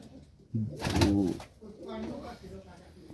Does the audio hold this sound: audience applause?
no